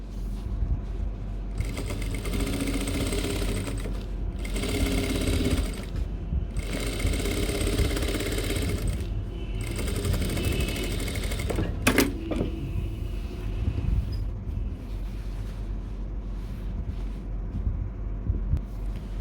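A sewing machine runs along the side seams of cargo pants in repeated steady whirring stretches with short gaps, close and continuous, with a few clicks midway.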